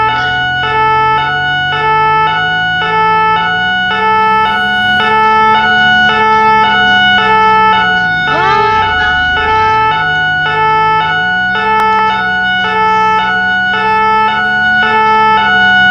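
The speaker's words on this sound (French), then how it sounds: "Oui, les sirènes, faut les mettre que dans les croisements." Emergency vehicle siren in a French rescue-service video game, a loud steady two-tone wail repeating without a break for the whole stretch, with the tone briefly dipping and sliding partway through.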